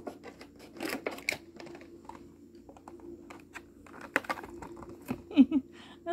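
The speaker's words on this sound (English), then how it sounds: "I will grab some scissors. Some scissors here, and I'll cut this open." Scissors cut open a package with a scattered series of crisp snips and plastic crinkles, close and fairly quiet, separated by short pauses with faint handling noise.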